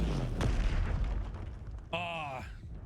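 A Confringo fire spell bursts in the Hogwarts Legacy game, a dull boom rolling under a busy layer of game sound, followed by a sharper tonal burst near the end.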